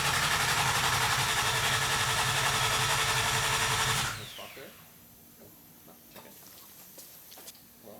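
An RB30 engine swapped into a Datsun 240Z turns over on the starter without firing, a loud steady mechanical churn for about four seconds that then cuts out, leaving quiet shop ambience with small clicks.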